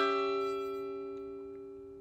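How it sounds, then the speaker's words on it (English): A diminished chord strummed once on a mountain dulcimer rings out alone, its bright, sustained tones slowly fading. "So the diminished chord is an unusual sounding chord."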